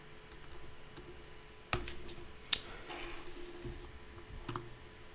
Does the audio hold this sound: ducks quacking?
no